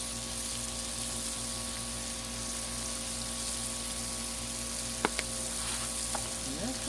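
Hot dogs frying on a Blackstone griddle, a steady soft sizzle with faint hum beneath and a couple of sharp clicks near the end.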